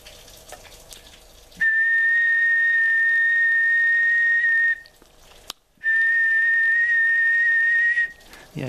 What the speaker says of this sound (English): So if I now whistle into the microphone, you should see about the same sort of reading on there.